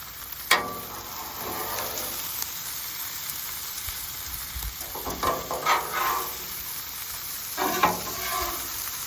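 Corned beef fries on a two-burner camp griddle outdoors, giving a steady low sizzle. Sharp scraping bursts from a spatula pushing the meat around break through it, close and fairly loud, with no talk.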